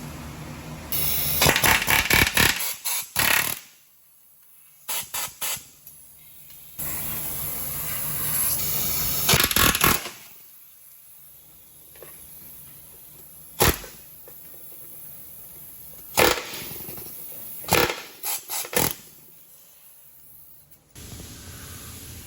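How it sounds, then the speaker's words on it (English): Loud bursts of rapid pneumatic hammering from an air hammer driving out a rivet on a 4x4 frame come in several short runs separated by pauses, with harsh hissing air around them. "then use an air hammer to drive it out"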